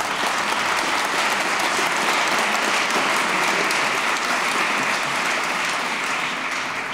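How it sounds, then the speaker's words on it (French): At a human rights book prize ceremony, an audience claps loudly and continuously, a dense, unbroken wall of applause with no speech over it. "je vous prie d'applaudir très fort"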